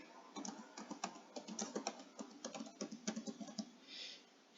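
Typing on a computer keyboard, a close, quiet run of rapid keystroke clicks in irregular bursts, heard alone with no voice.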